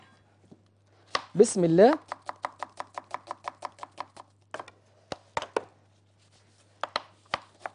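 A knife chops onion on a board for kofta with a run of about a dozen quick, even, crisp knocks. A few scattered chops follow after a pause. Someone speaks briefly before the chopping starts.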